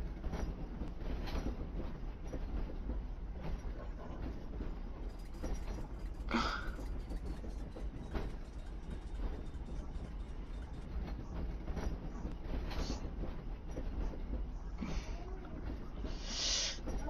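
A train rolls along its track in the Roblox game Theme Park Tycoon, a steady rumbling clatter with occasional squeals and clicks, running continuously at moderate loudness with no talking.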